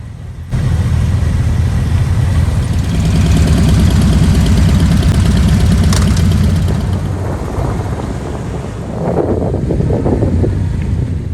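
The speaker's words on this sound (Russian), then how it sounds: "Километровые пробки из мотоциклов и машин на дороге понравятся не всем." Engines of motorcycles and cars idle and rumble in a long roadside traffic jam near the Jerez circuit for the 2023 Spanish motorcycle Grand Prix, a steady close drone with wind buffeting the microphone and no talk.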